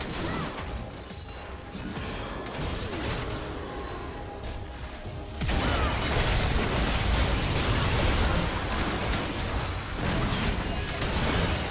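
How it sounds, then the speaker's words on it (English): A turret being destroyed in League of Legends: a loud crashing burst that gives way to a sustained rumbling collapse and debris noise, strongest from the middle of the clip onward. "Red team's turret has been destroyed."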